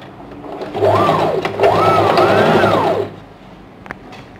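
Sewing machine stitching a princess cut blouse, running in a steady close whirring hum with repeated rising-and-falling motor pitch sweeps over about two seconds, then stopping, leaving faint room noise and a small click.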